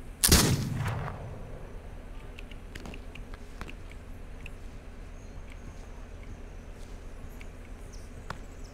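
Gunfire in a video game set in a land-liberation scenario: one loud close shot at the start, then a few faint distant cracks and pops over a quiet ambient bed, with no talking.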